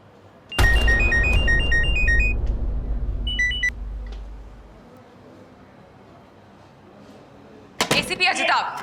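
A phone rings with a short electronic melody of bright repeated beeps, loud and close, in two bursts before falling quiet. A brief noisy clatter follows.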